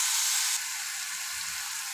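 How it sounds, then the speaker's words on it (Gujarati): Banana pieces being stirred into hot oil with turmeric in a frying pan, giving a steady, close sizzling hiss that is slightly louder at first and then settles to an even level. "પછી નાખશું કેળા, અને પછી થોડીક વાર હલાવી દેવાનું"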